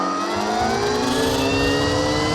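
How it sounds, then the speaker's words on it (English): A REXX T01 electric bike motor accelerating, giving a steady rising whine that climbs in pitch over about two seconds, loud and close, with no talking. "Something I want you guys to listen to is just the pickup speed."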